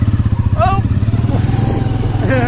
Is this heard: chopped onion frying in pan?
no